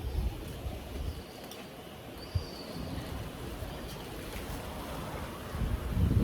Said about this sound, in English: quite like the wind is distracting me